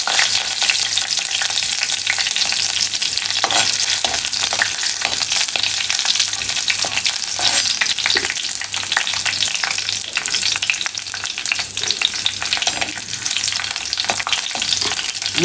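Curry leaves and stalks frying in hot coconut oil for a banana flower sambal, a loud continuous sizzle and crackle with steady spattering and no voices.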